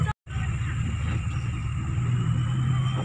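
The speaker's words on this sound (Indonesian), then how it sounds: "ini kami naik tronton ingin melalui tempat yang terbanjir tadi ya" A tronton heavy truck driving through floodwater in a flooded rural village, heard as a steady low engine rumble from on board, fairly loud and constant after a brief dropout at the start.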